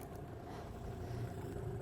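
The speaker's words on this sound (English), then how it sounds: "Put the engine off." A boat's outboard engine runs steadily on a lake during pike fishing, a continuous low droning hum with no voices over it.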